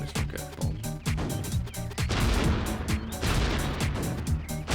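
Bomb weapon firing in the N64 game Buck Bumble, a rapid run of punchy blasts and thuds in quick rhythmic succession, loud and close, layered over game music.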